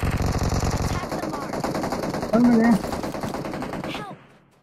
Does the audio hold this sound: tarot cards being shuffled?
no